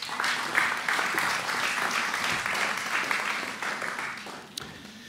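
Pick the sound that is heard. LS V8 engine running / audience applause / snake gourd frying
audience applause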